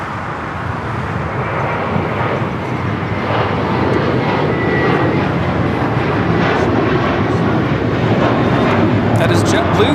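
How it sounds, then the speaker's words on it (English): A JetBlue Airbus A321 jet takes off at LAX, its engines making a loud, steady, broad roar that fills the whole stretch, with voices faintly mixed in. "That is JetBlue Flight 388 taking off to Boston on this A321 mint to soar."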